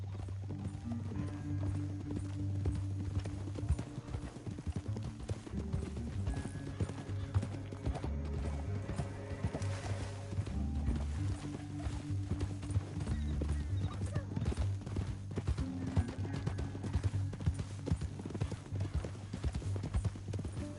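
Horses gallop in a PS4 video game with steady, continuous clip-clop hoofbeats, a whinny or two, and a low rumbling score running throughout.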